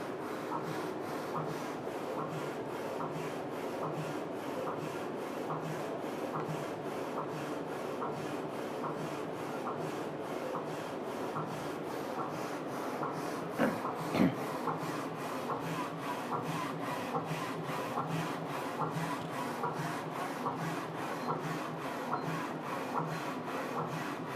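A Focus Alpha-Jet UV printer runs a colour offset calibration print, its carriage making a steady, fast repeating shuttling rasp with a brief knock partway through, close and continuous with no talk.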